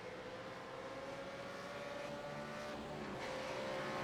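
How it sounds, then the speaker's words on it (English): A Supercar race car in the iRacing sim at the Aragon circuit drones with a steady, fairly quiet engine hum that holds an even pitch and level throughout. "Sounds like a very quiet car for Warboys"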